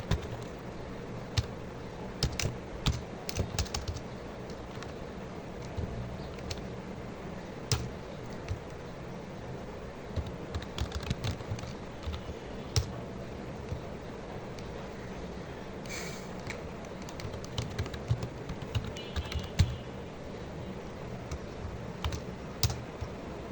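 Steady typing on a computer keyboard, a continuous stream of close, irregular key clicks over a soft background hum, with no voices.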